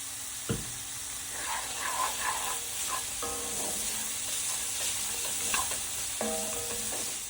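Olive oil sizzles steadily in a pan while cooking, with a continuous hiss under intermittent clinks and scrapes of a utensil stirring, close and fairly loud throughout.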